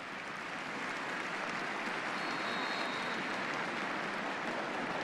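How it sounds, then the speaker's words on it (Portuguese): Dense, steady applause from a large football crowd at a Brazil versus France match in Arena do Grêmio, a continuous roar of clapping filling the stadium for the whole stretch, with no clear voices rising above it. "olha, o aplauso, ó"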